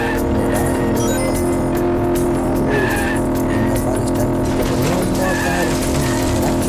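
Monster truck racing game with engines roaring and tires skidding and squealing continuously, loud and dense, with no talk.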